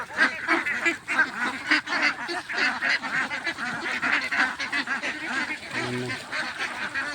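Farm ducks honking and quacking in a steady, busy chorus while being bathed in the morning, close and continuous with overlapping calls.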